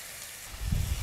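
Beetroot tipped into a pan of frying masala for a Tamil beetroot chicken dish, starting with a faint hiss and then a louder burst of sizzling and crackling that sustains for the last half second.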